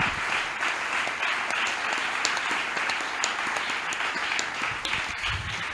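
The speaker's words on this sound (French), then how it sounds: "honorons la parole de Dieu avec nos acclamations" Sustained applause from a church congregation during a Sunday service, steady and continuous throughout, with no voices standing out.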